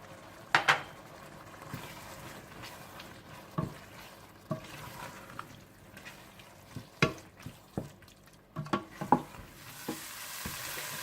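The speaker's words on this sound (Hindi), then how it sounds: "जीरा पाउडर, सुर्ख मिर्च पाउडर, धनिया पाउडर और नमक डालकर अच्छी तरह से भून लें।" Minced meat masala with turmeric, cumin, red chili and coriander powder fries in a pan, a steady low sizzle broken by repeated scraping stirs and occasional utensil knocks against the pot, close up with no voices.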